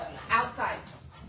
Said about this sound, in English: I don't want to hear you bark.